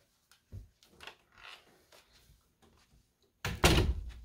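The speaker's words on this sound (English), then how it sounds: "Let's see if the door will close nicely." Door being tested after a pull-up bar is mounted in its frame: a few light knocks and rattles, then one loud, close thud as the door shuts, with no talking.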